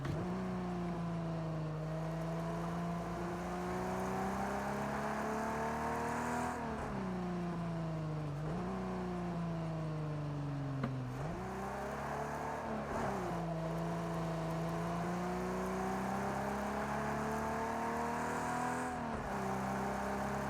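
Race car engine in Project CARS 2, crackly with oil popping, droning steadily at high revs, then dipping and climbing again through several gear shifts during a hot lap, loud and continuous with no talking.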